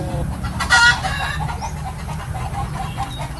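Chickens cluck close by, with a brief burst of rooster-like calls near the start and softer clucks after it over a low background rumble.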